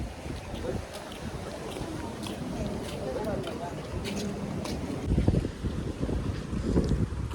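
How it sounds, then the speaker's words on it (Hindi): Strong sea wind buffets the microphone at Dona Paula jetty in Goa, a constant low roar and rumble with gusts that swell near the end, people fishing nearby. "काफ़ी अच्छी हवा चल रही है यहाँ पर, आप देख लीजिए।"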